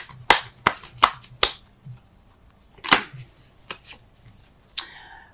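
Tarot cards are shuffled and snapped in a string of sharp, close riffles and taps, followed by a few scattered softer card handling sounds.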